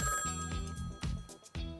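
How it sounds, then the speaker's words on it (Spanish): A telephone bell rings in repeated bursts, each lasting a fraction of a second and separated by short gaps, heard close and alone, with no talk over the ringing. "Suena el teléfono."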